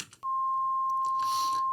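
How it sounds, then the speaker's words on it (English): A pure 1 kHz sine wave test tone plays from audio monitoring software, switching on abruptly and holding a loud, constant, unwavering pitch to the end. "if I play this 1K sine wave"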